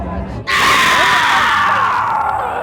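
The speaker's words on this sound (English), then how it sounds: "Why are you yelling?" A person lets out a loud, sustained yell or scream in a horror game setting, starting abruptly and holding strong for a couple of seconds, close and dominant.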